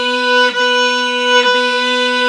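A beginner violin plays long sustained bowed notes from the Blue Book, with clean steady tones broken by two brief bow changes, clear and close with no talking.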